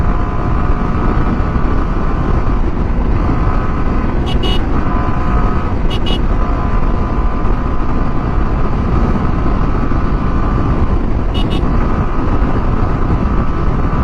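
A TVS Apache 4V motorcycle is ridden at a steady pace, its engine drone merged with a loud, constant rush of wind. A few brief faint ticks break the roar, and no one talks.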